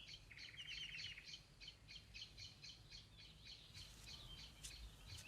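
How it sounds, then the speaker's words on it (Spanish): Birds sing and chirp across open spring fields in the Spanish countryside, a steady run of repeated high calls and trills over a low rumble of wind, with sharper calls joining near the end. "se escucha el cántico de los pájaros por todas partes"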